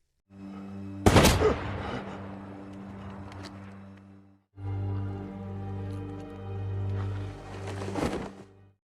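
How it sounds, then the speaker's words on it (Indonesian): Two sharp gunshot bursts crack out, one near the start and one near the end, over a low humming drone in a dramatic story scene. "Saat Vassel ingin mengakhiri Peter, tiba-tiba suara tembakan datang dari belakang."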